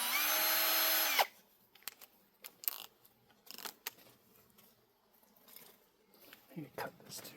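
A power drill whirs loudly for about a second and then stops, followed by quiet clicks, handling noises and brief talk.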